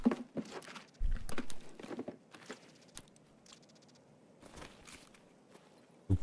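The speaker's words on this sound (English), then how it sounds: "Thought I heard footsteps back there." Footsteps in the video game Escape From Tarkov, heard as scattered soft shuffling and crunching steps that come and go, some louder bursts among faint patter, with no talk.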